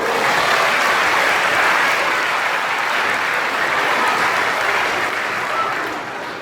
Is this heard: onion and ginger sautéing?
no